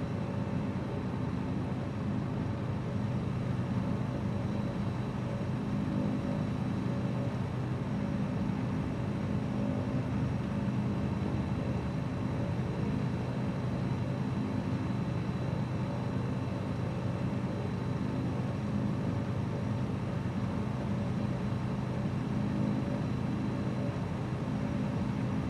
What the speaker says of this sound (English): This aircraft is not being too noisy for those fine folks down below us.